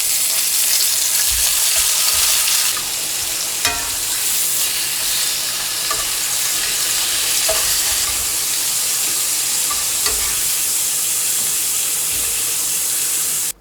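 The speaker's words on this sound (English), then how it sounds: "I'm going to throw my brisket in there and sear it really quickly." Brisket searing in hot beef fat gives a loud, steady, close sizzle and hiss throughout, with occasional crackles and pops and no voices.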